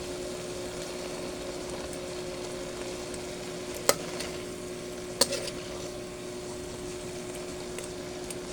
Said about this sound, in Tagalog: Lagay na natin yung gata.